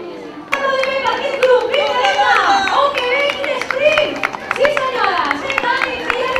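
Spectators clap for a runner finishing a women's 5-mile road race in Valldoreix, brisk scattered applause running steadily under a loud announcer's voice over the public address.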